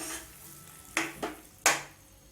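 Almond halwa stirred in a pan with a spoon, three short scraping swishes spaced about half a second apart over a faint steady background.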